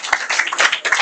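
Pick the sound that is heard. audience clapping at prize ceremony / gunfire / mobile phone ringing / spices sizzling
audience clapping at prize ceremony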